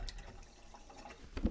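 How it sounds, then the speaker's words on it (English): Water running from a tap during hand washing with soap, a quiet, steady trickle with faint splashes and a louder splash or clunk at the end, close by and without speech. "I'm going to go clean my hands with soap and water"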